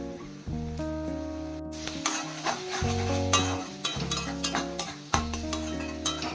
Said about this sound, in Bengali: এবার দিয়ে দেবো কুচনো টমেটো।